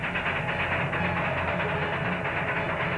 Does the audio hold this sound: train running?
yes